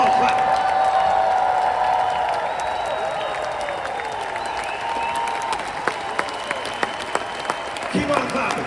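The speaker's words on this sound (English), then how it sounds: "Clap your hands and shout, and I want you to stand up and keep on clapping." Audience clapping and cheering at a motivational event, a dense steady wash of applause with occasional whoops, a voice talking over it and a few sharper claps near the end.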